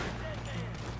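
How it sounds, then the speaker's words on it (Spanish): Gunfire in the Western video game Red Dead Redemption (RedM roleplay) during a fort assault, with a dense, muffled burst of shots and rumble over about one second, quiet and somewhat distant. "Ahí está el disparo."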